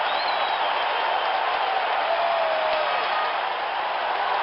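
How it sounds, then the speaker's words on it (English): Simulated stadium crowd in an APBA PC Baseball game of a 1949 Indians versus Browns matchup roars and applauds steadily after a home run, a dense continuous cheer at even loudness throughout. "Listen to that crowd."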